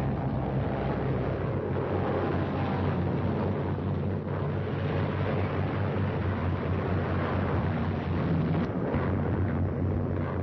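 Bombs exploding on German fortifications and artillery positions in WWII newsreel footage, a dense continuous rumble of blasts and booms, loud and sustained throughout.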